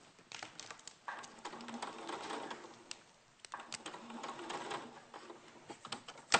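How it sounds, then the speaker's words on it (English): A sewing machine stitches along a curved seam, quiet rapid mechanical whirring in two runs with a brief pause between them, with no talking. "I'll just bring it into position as I sew"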